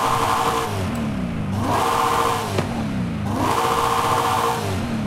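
A car engine in Forza Horizon 5 revs repeatedly through rising and falling cycles, its deep roar joined by a high supercharger whine that climbs with each pull, loud and close with no talk.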